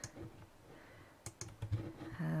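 Keys clatter briefly on a computer keyboard as a short word is typed into a photo editor, a handful of quiet close clicks with small gaps between them.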